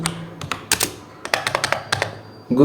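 Someone types on a computer keyboard, producing irregular bursts of crisp, close keystroke clicks with short pauses between them, followed by a brief louder thump at the end.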